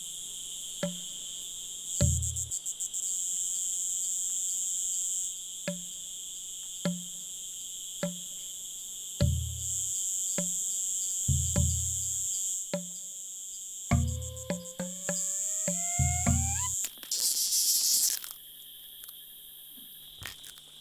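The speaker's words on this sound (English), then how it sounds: "the jungle echoes to the song of the cicadas" Cicadas in a Madagascar jungle give a continuous high, shrill buzzing chorus. Sharp crunching clicks and rattles cut in now and then underneath it.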